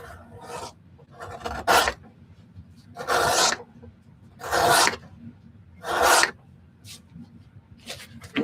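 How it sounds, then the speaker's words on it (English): French edger scooping material out of leather, five or six separate rasping scrapes, each about half a second long, close and distinct against quiet gaps. "So I use my French edger to just like freaking scoop out material from here."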